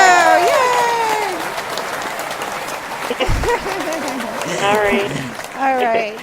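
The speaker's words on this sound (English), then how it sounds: "I'll give you applause" A canned applause effect plays on a call-in radio show, a crowd clapping and cheering that rises and fades under lively overlapping talk, with a brief thump midway.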